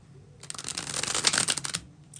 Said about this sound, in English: This is the last, second and last Bridge Shuffle.